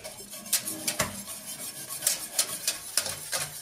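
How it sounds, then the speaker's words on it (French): A utensil stirs flour and water paste in a saucepan for papier-mâché, scraping and clinking against the metal pan in a steady rhythm, close and alone without talking. "Je mélange, je mélange, je mélange."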